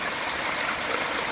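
Creek water flowing steadily at a sluice setup for gold prospecting, a continuous close broadband rush and trickle with no voices.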